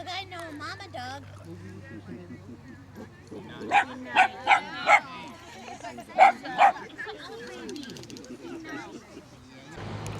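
A tired mother dog gives several short barks and yips in a quick cluster, then whimpers softly, close by, with a low steady hum underneath.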